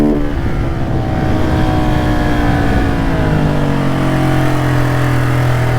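A KTM 690 SMCR supermotard single-cylinder engine revs loudly and close by, a gritty roar that climbs steadily in pitch over several seconds, with no voices over it.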